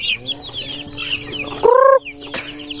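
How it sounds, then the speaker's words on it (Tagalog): A large backyard poultry flock with turkeys and Rhode Island Red chickens clucks in a busy, overlapping chorus, broken by one loud, harmonic squawk or crow close by. "Sobrang dami ng manok ni Agri Bill's Vlog"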